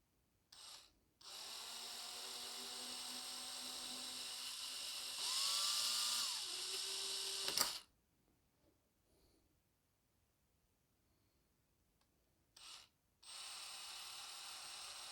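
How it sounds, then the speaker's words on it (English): A high-pitched electric drill whines steadily for several seconds drilling out metal rivets on a diecast model, rising in pitch, then stops; a few short bursts follow after a quiet pause. "So there we are, that's our two rivets drilled out."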